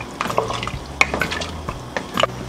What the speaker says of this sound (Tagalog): Haluin lang po natin ng konti para matunaw yung beef cubes.